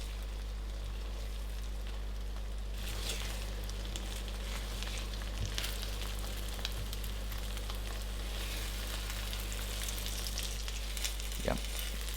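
Char siu fried rice stir-fries in a pan with a continuous soft sizzle, broken by occasional scrapes and light clinks of tossing, fairly quiet and close.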